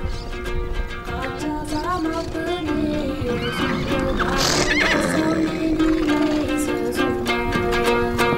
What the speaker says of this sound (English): trying to make sure the untamed colts are trapped in the center so they can be caught